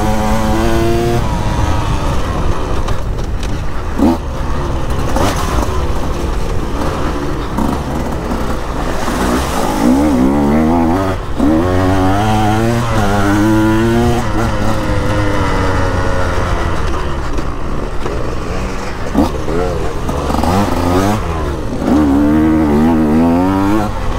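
2024 KTM dirt bike engine revved on a ride across Africa, loud continuous engine drone with repeated rising and falling pitch sweeps as the throttle is blipped, close and sustained throughout.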